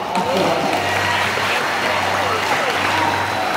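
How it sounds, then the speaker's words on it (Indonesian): Applause for a speaker at a school Islamic study session (pesantren kilat) at SMPN 1 Kramatwatu, a steady dense clapping wash filling the room for several seconds with a low hum beneath. "Tepuk tangan untuk Bapak"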